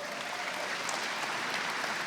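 An audience at a Creighton Athletics Hall of Fame ceremony applauds, giving a dense, steady wash of clapping throughout with no voices over it.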